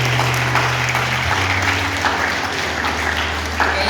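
Loud applause from a church congregation, dense continuous clapping filling the space for four seconds, with a low sustained tone underneath and no clear talk.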